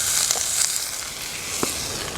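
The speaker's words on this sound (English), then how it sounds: "I'm going to give the celery and onions a little time to sweat it out, saute." Celery and onions sautéing over high heat in a pan for jambalaya, a steady close sizzle with a few brief stirring scrapes, no talking.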